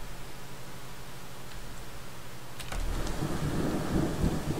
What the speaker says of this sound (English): damn rain.